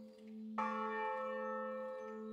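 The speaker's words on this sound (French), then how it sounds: "Ces cloches, elles sonnent toutes les trois ensemble, c'est pour l'Eucharistie du dimanche et parfois en semaine." Three church bells of the Poor Clares chapel at Ronchamp ring together, their strike starting abruptly and sustaining a clear, resonant tone that slowly fades.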